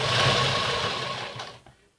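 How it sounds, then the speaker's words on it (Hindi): A sewing machine stitches elastic onto a baby girl's trousers with a continuous, close whirring hum that runs steadily before fading out near the end. "आपको सभी जगह खींचकर सिलाई लगाते जाना है"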